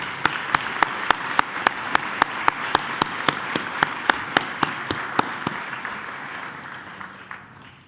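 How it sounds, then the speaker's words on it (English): Banquet audience applauding at a civic awards dinner: steady, fairly sparse clapping with a few sharp, regular claps standing out, fading toward the end. "Let's give them a round of applause."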